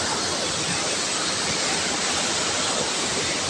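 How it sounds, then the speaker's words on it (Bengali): Water pouring down from a bridge onto the area below, a steady broadband rushing roar that stays loud and unbroken throughout, with no voices. "পানি পড়তেছে ব্রিজের উপর থেকে, যার কারণে সাউন্ড এতটা ক্লিয়ার বোঝানো যাবে না"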